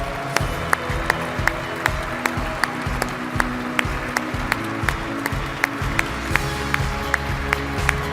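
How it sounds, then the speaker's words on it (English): An event audience claps in a steady, even pattern of sharp claps over a low, droning background, moderately loud and sustained for several seconds with no clear voices. "Stand up, clap your hands."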